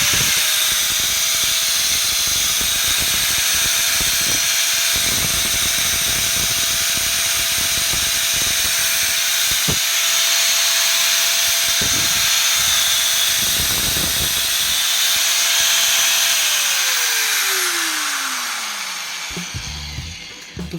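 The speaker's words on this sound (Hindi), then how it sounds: "जब मैंने ये ग्राइंडर चलाया" A slim, lightweight angle grinder runs free at full speed with a loud, steady high-pitched whine, then is switched off and spins down with a falling tone.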